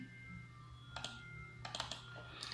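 Computer mouse clicks while working in a spreadsheet, a pair of sharp clicks close together followed by a few more quick taps, crisp and near against a faint steady hum.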